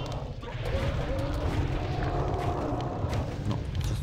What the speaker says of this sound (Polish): Powiedzmy, że miałem przy sobie zwoje ognistego deszczu i je użyłem.